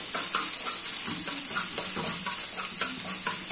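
Seasoning paste with garlic fries in a pan for fish fried rice, a loud steady hiss and sizzle broken by repeated scraping stirs from a utensil, close up and continuous.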